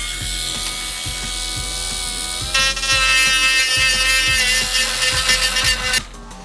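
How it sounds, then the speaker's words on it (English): A heat gun blows hot air over a craft model of a mummified bat, a loud continuous whirring blast with a steady fan hum and a regular fluttering pulse that rises in pitch midway and cuts off near the end. "And then I'll heat it with the heat gun again"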